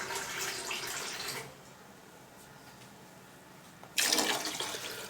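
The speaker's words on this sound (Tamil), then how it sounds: "நீங்கள் தண்ணி சேர்த்துக்குங்க." Water is poured into a pot of coconut milk rice as it cooks, a steady splashing pour that stops, then a second louder gush begins after a short quiet gap.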